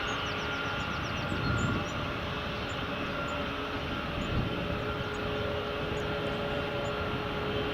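A United airliner taxiing at Edinburgh Airport, a steady broadband engine whine and rumble heard from a distance, continuous with faint tonal hums, with no talk.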